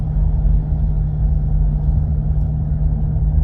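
Steady low engine drone and road rumble from inside a moving car, recorded on a dashcam, continuous and fairly loud with an even hum and no talking.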